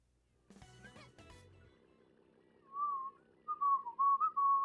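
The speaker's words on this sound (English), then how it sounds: "I shouldn't whistle into the mic" A person whistles a bright melodic tune close into a microphone, coming in short phrases with pauses and growing louder toward the end, after a brief burst of clattering noise at the start.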